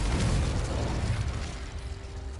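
A Confringo blasting-spell explosion from the game Hogwarts Legacy on PS4 erupts as a dense, loud boom with rumbling debris that fades gradually over a couple of seconds.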